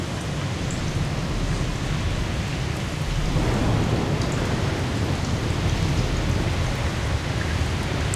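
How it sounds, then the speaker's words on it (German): Heavy rain pours steadily in The Solus Project game, with thunder rumbling low and building from about three seconds in, a dense, continuous storm wash with no voices. "Ah, da kommt der Sturm."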